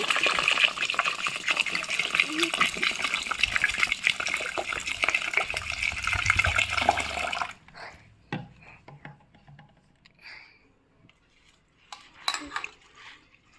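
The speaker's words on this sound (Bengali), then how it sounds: "এখন জল দিয়ে দেবো পরিমাণ মতো" Water pours steadily over five measures of rice soaking in a pot for spicy chitoi pitha, a continuous gush for about seven seconds, then only faint clinks and small knocks of the vessel.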